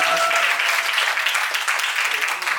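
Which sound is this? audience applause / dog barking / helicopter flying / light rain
audience applause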